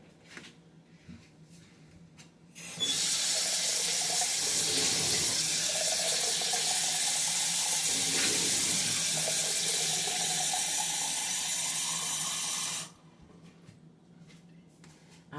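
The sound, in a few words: tap water running into a glass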